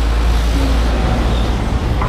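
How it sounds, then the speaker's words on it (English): Loud downtown traffic in Mandaue, a dense, close roar of engines and road noise with a heavy low rumble, steady throughout. "We are in downtown Mandaue. As you can tell, it's very noisy, very loud, lots of traffic."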